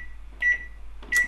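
A microwave oven gives two short electronic beeps over a faint, steady low hum.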